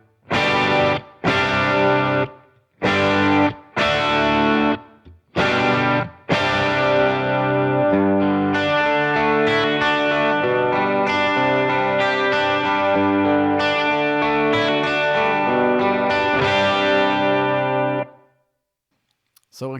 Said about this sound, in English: Les Paul and the AS combined